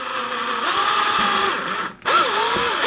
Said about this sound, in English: And it helps just kind of eyeball it and then pre-drill